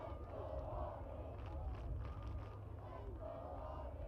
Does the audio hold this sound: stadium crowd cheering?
yes